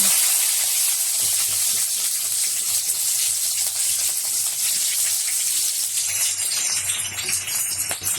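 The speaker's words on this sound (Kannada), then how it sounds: "ಅದು ಚಟಪಟ ಸಿಡಿದ್ಮೇಲೆ ಈಗ ಕರ್ಬೇವಿನ ಸೊಪ್ಪು, ಮೆಣಸಿನ್ಕಾಯಿ 2 ಹಾಕೋಣ" Curry leaves and two green chillies sizzle and hiss steadily in hot oil, a continuous close-up frying crackle with no voices.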